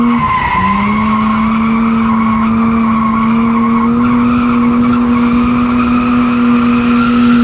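A drift car sliding sideways around the Achna speedway in Cyprus, tires skidding in a long, loud, sustained squeal over the engine's steady drone, close and continuous throughout.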